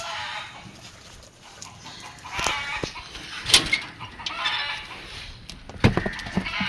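Goats bleat among mixed farm livestock at a sale yard, with several cries rising over a busy background of animal noise and rustling, some bursts loud and close.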